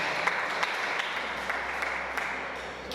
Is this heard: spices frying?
no